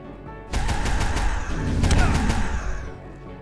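A boss in the video game UnMetal fires a rapid volley of shots with sharp, crackling bursts and low thumps. The barrage starts suddenly, runs for about two and a half seconds and then fades.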